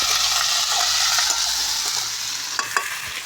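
A curry of potato, long beans, tomato, eggplant and onion sautés in a pan, giving a loud, dense, continuous sizzle with a few sharp stirring scrapes near the end and no talk.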